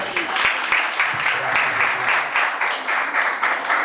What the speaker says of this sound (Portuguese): Aplauda Jesus, irmãos.